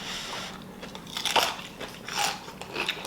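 Cucumber dipped in noodle broth is bitten and crunched close to the mic, with three or four crisp, wet crunches in quick succession and no talking.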